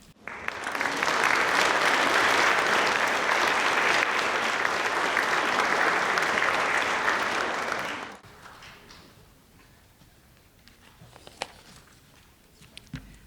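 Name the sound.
audience applause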